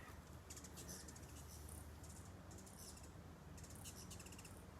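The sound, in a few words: hummingbird flying overhead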